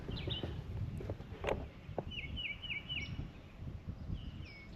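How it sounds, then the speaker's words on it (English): Faint bird calls ring out outdoors, a short series of repeated chirps in the distance over a soft rumbling background. "Birds are singing."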